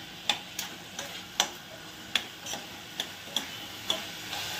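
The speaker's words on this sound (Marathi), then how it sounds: "हाय फ्लेमवरच हे मटणाला थोडंसं असं परतून घेऊया तेलामध्ये" Mutton pieces sautéed in oil over a high flame, with about nine sharp spoon-against-pan clicks and scrapes spaced irregularly over a faint, steady background sizzle, close and fairly quiet.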